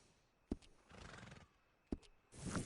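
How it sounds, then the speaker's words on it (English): Horse neighing in the video game Red Dead Redemption 2: two sharp hoof-like knocks frame a snorting whinny, then a louder breathy neigh closes the short clip, heard alone with no talk. "And a fine new horse."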